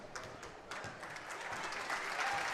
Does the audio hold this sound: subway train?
no